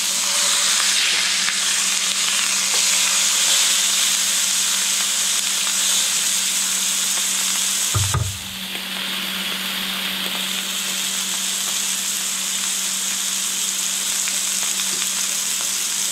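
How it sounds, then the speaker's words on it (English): Thyme-marinated beef sears loudly in a pan, a dense continuous hiss and crackle with a brief thump midway, after which the sizzle drops slightly and carries on steadily. "So while this is searing up,"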